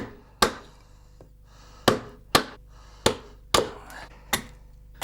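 A wooden mallet drives a gouge into solid wood, roughing out a barrel carved from a tree trunk, with six or seven sharp, loud, close strikes spaced roughly a second apart and no talking.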